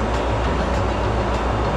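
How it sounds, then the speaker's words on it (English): A blue line light rail train bound for Salt Lake Central rumbles loudly and steadily at night, a dense low roar of wheels and motors with faint rhythmic clicks over the rails. "This is a blue line train to Salt Lake Central."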